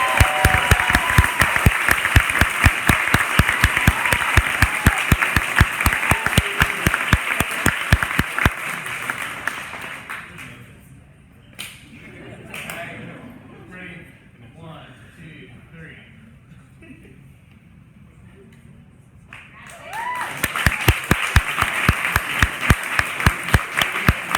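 An audience at a startup pitch competition's final presentations applauds the second-place team, with loud, rhythmic clapping that fades into a quieter stretch with someone talking before the clapping swells again near the end.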